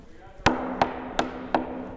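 Four sharp hammer blows on nails at a construction site, evenly spaced and ringing, struck close by at a steady rhythm.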